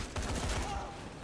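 Shotgun blasts ring out in the zombie action game Dead Rising 3, a quick loud burst of overlapping gunfire lasting about a second.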